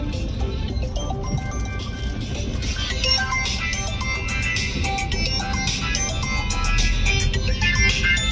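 A mobile phone rings inside a moving car while the driver heads home from grocery shopping. The melodic ringtone plays continuously over steady road and engine rumble.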